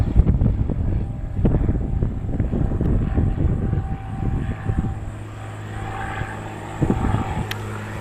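An airplane at Aurora Municipal Airport, its engine drone rising and falling at a moderate distance over wind buffeting the microphone, fading toward the end.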